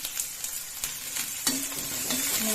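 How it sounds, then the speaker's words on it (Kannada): Mixed vegetables with peas and capsicum fry in a pan, giving a loud close sizzle with repeated scraping stirs at an irregular pace. "ಫ್ರೈ ಮಾಡ್ತೀವಿ"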